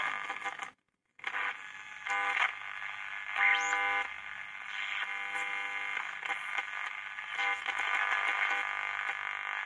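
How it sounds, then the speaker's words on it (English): A 1973–1975 Philips 90RL077 radio with internal oscillation gives off a steady tonal buzz and whine, broken by a brief dropout near the start, with warbling pitch changes throughout. "It seems that the radio has internal oscillations."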